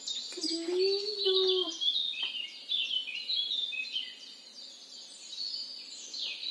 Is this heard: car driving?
no